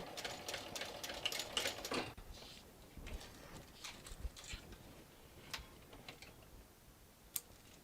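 Sewing machine stitching a bag strap: a rapid, dense run of mechanical stitching for about two seconds, then quieter scattered clicks and ticks as the fabric is handled and turned.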